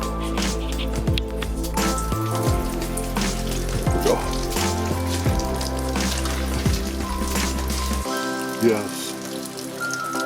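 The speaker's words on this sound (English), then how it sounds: "still raining" Rain pattering steadily on the roof and surfaces around a small greenhouse shed, a dense close drumming with drips throughout, while someone says a word or two over it.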